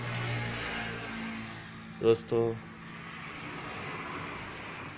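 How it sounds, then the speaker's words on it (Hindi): An old black desi engine, the kind that drives a flour mill, runs with a steady low drone while someone talks over it, and two brief louder knocks sound about midway. "ये है इंजन, इनको असां सरेकी पुराने दौर इनको सॾींदा आहिनि काला इंजन।"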